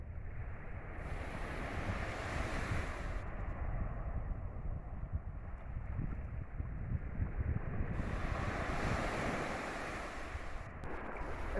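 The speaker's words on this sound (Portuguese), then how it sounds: "E ó, escuta um pouquinho do mar, ó." Sea waves wash continuously onto a beach in Ubatuba, a full, rolling roar with wind buffeting the microphone in surges throughout.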